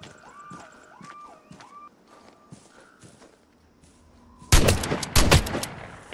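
Shotgun blasts in the online shooter Vigor, two or three loud booming shots close together near the end, after quieter footsteps and game sounds.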